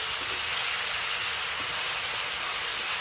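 Eggplant, cabbage, potato and tomato fry with lentils in a pan, giving a steady, loud hiss and sizzle that stays constant throughout, with no voices.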